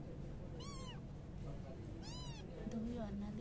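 A kitten gives two short, high meows about a second and a half apart, close and clear over a quiet room hum, with a faint low murmur near the end.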